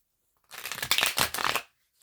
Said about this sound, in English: Let's shuffle our moonology cards.